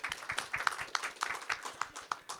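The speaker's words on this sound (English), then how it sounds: "big round of applause for Narendran." A quiz show studio audience claps briefly, a modest burst of fairly sparse, distinct hand claps at a moderate distance, with no talking over it.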